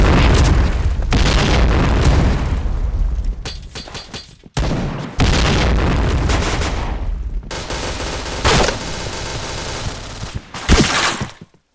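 Grenade blasts and heavy gunfire in the Point Blank shooter game: a string of loud booms and rattling bursts, with abrupt near-silent gaps between volleys and a final sharp explosion.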